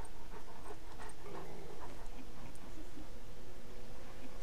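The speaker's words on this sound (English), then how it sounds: "Doggy!" A dog pants in the Wasteland 2 video game, quick breathy puffs running steadily and fairly close, with faint game ambience and no talking.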